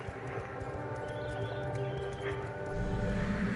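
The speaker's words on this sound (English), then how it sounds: "I have a vampire horse that I've dominated when I reached a certain level" A summoned vampire horse in the video game V Rising clops along with steady, close hoofbeats over game ambience, growing a little louder near the end.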